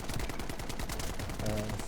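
Rapid bursts of gunfire crackle in a free-to-play video game, a rattling run of shots at moderate level, with a brief voice near the end.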